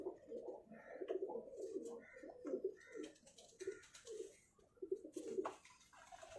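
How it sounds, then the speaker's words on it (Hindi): Tawny pigeons coo repeatedly in low, throaty murmurs, close by and soft, with a steady rhythm of overlapping calls. "ये टॉनी कबूतर है ये।"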